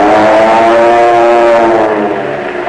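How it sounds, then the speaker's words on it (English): Powerful Army Air Force military aircraft engines give a loud, steady roar with a strong droning hum, holding for a few seconds and easing slightly at the end. "Today, your Army Air Force has planes that sound like,"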